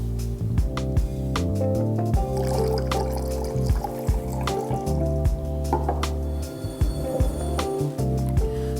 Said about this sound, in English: we're going to take this measuring cup and we got to pour in 1 cup or 8 ounces of denatured alcohol